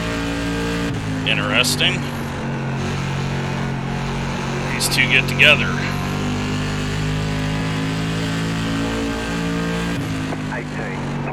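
SK Modified race car engines drone at New Smyrna in the iRacing simulator, a steady loud multi-engine roar with rising revs and brief shifts in pitch, while someone talks over it.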